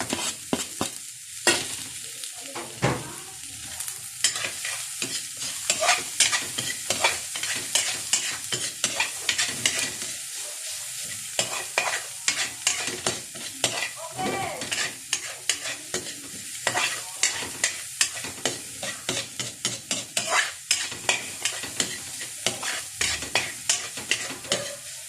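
Onion fries in a pan under a continuous close sizzle while a spatula stirs it in rapid, repeated scraping strokes throughout, with no voices heard.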